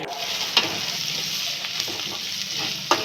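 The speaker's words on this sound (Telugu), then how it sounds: "ఈ పోపు దినుసులు కాస్త చిటపటలాడుతున్నప్పుడే కట్ చేసి పెట్టుకున్నటువంటి ఆనియన్స్ని కూడా ఇందులో వేసుకోవాలండి" Chopped onions going into hot oil with crackling tempering spices, a continuous sizzle with a few sharp pops and stirring clicks, close and moderately loud, no speech.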